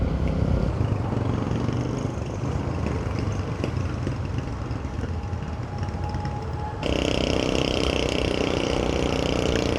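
Motorcycle engine running steadily while riding under a heavy load of carried goods, a continuous close drone with a brighter shift near the end.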